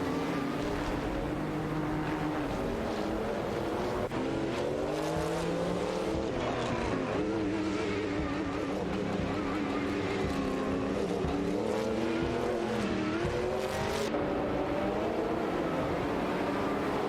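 Race car engines roar continuously in an AI racing video game, several cars droning and shifting pitch together at a steady, dense level with no break.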